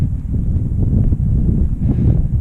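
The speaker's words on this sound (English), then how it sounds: "It's a bit more windy now than it was just 5 minutes ago" Gusty wind buffets an action camera's built-in microphone while walking outdoors, with a low, rumbling roar that keeps shifting in strength.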